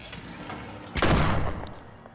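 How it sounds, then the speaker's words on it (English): Shotgun blasts in the horror video game Tormented Souls: a loud, sudden burst with a dense, booming tail that decays over about a second, preceded by quieter game ambience. "I'm using all my shotguns."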